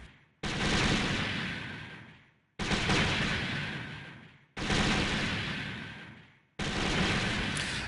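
Four long sustained bursts of beam machine gun fire from a full armor Unicorn Gundam in Awaken Mode in the game SDGO, each loud roaring blast fading off before a sharp restart, no voices.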